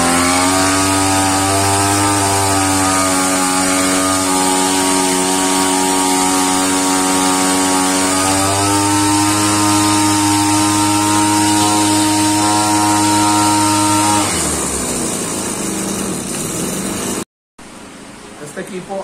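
A two-stroke engine on a backpack fumigation sprayer runs at a steady, loud drone with a strong harmonic whine for about fourteen seconds, then changes pitch and cuts off briefly near the end.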